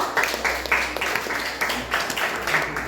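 Applause for a student group in a classroom, a short burst of clapping from the class with rhythmic pulses, fairly close and filling the room with some background hum.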